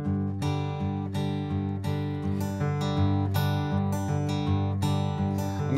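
Acoustic guitar plays a simple finger-picking pattern for the ballad John Henry, steady alternating bass notes under ringing plucked treble strings, close and clear with no talking.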